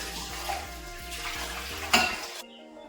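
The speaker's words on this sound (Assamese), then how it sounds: "এতিয়া বাচনকেইটা ধুই লওঁ" Running tap water splashing over dishes in a sink, a continuous rushing flow with light clinks of plates and a sharper clatter near the end before the water cuts off abruptly.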